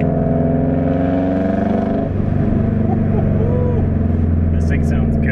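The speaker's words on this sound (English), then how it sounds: "This thing sounds good. It's loud, but it sounds awesome." A Subaru GC8 rally car engine runs loud and steady close by, with a deep, throbbing idle and strong harmonic drone that changes slightly in pitch partway through, alone without talk.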